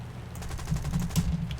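Fighter plane cannon fire in War Thunder, a rapid burst of heavy rounds in a quick, uneven rattle lasting over a second, loud and close, with no talking over it.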